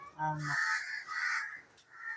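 Crows caw loudly near a rural village kitchen where fish is being cut, harsh drawn-out calls repeating in a quick series, with a brief lower voice-like sound at the start.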